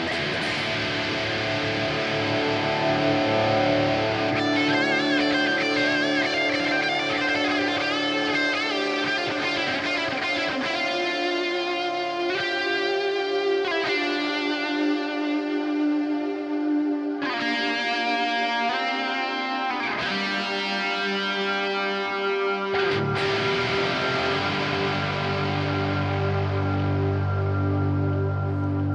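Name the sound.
ambient electric guitar through GP100 with big echo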